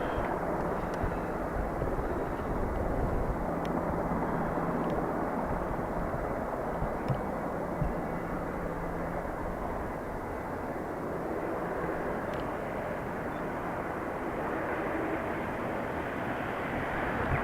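KLM airliner at Dublin Airport, a continuous broadband jet rumble mixed with wind buffeting on the microphone, steady and moderately loud, slightly easing toward the end.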